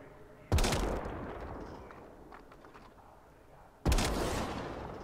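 Two loud, sharp gunshots from a video game ring out about three seconds apart, each a sudden blast trailing into a long decaying echo.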